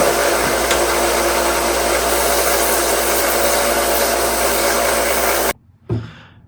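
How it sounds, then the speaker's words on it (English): A power tool sands down the pin heads on a vintage Imperial Boy Scout knife, giving a loud, steady broadband whir that holds for over five seconds and then cuts off abruptly, followed by a short clunk. "we got to sand these heads down real quick"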